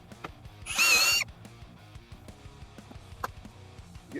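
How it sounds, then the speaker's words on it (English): A power drill bores through the top of a Yamaha RMAX2 fender flare during an overfender extension install, giving one short, loud, whining burst that stands out against faint clattering and handling noise. "you can remove the clamp and get it out of the way and keep on drilling"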